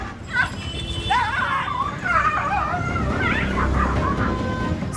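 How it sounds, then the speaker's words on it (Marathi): Stray dogs yelping and whimpering as a municipal team catches them in a lane of Mali Galli, Sangli, with several sharp distressed cries over street noise and background voices. "सांगलीच्या माळी गल्लीत कुत्र्यांना पकडण्यासाठी सुरू असलेली पालिकेची पळापळ"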